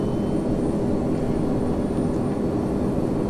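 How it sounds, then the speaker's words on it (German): The jet engine of a Boeing 767-300ER in Flight Simulator X spools up, a steady, loud broadband whine and roar that holds constant throughout with no voices over it. "Und wir hören auch schon, wie das Triebwerk hochläuft."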